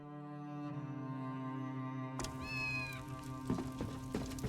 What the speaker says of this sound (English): Just a couple of cats to keep you company.